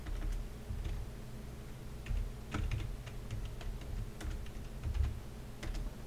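Rapid clicking of keys on a computer keyboard, close and fairly quiet, in uneven bursts with brief pauses between them.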